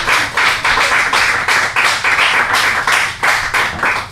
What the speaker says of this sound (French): je pense qu'on peut leur donner une bonne main d'applaudissement quand même